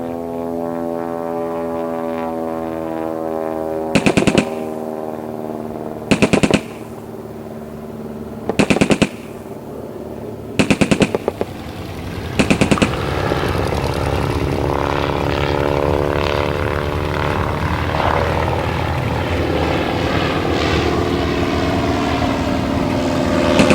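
A Bristol fighter plane drones overhead while strafing enemy positions in a WW1 reenactment, its engine humming steadily and loud as five short machine-gun bursts rip out at intervals, followed by a rising engine roar.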